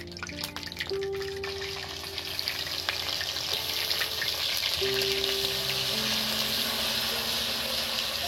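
Garlic added generously to hot oil for a lote fish and taro curry, a steady broadband sizzle and crackle with sputtering pops that holds loud and close throughout, no voices.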